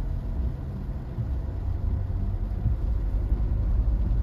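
Engine of a 2022 Toyota Innova Reborn heard from inside the closed cabin with the air conditioning running, a steady low rumble and hum that stays even and fairly quiet throughout, with no talking.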